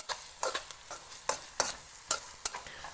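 Onions with a little garlic fry in a pan, a close hiss punctuated by quick, repeated scrapes and taps of a spoon stirring, fairly quiet overall.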